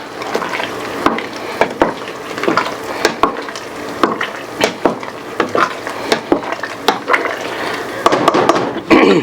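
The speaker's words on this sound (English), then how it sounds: "Give it a stir." Someone stirs creamy turkey noodle soup with mushrooms in a pot, giving repeated loud utensil clanks and scrapes at an irregular rhythm over a low bubbling simmer.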